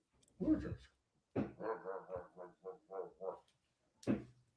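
A dog barks indoors in a quick series of about eight close, loud woofs, with a single vocal burst before and another after.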